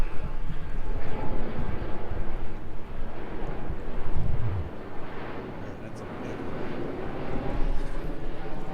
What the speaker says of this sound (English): we have another plane that flies over